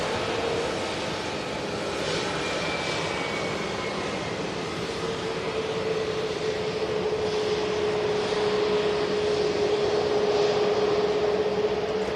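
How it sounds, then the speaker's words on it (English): An EasyJet airliner bound for Amsterdam rumbles at Manchester Airport, a loud, steady engine roar with a faint rising whine, heard alone without talk. "The tail of the EasyJet there, aircraft heading to Amsterdam."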